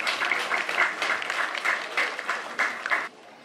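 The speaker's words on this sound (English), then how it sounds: "Round of applause." An audience applauds an honoree at a school inter-house track and field championship, steady dense clapping for about three seconds that cuts off sharply near the end.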